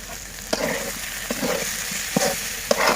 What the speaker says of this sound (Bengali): এই যে আমি মশলাটা খুব ভালোভাবে নেড়ে চেড়ে কষিয়ে নিচ্ছি।